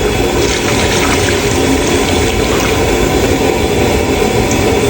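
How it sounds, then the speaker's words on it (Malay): Water is poured into a cooking pot of singgang bone soup, a steady continuous rushing, full broadband gush with no talk, close and fairly loud throughout. "kita tambah lagi air sekali lagi"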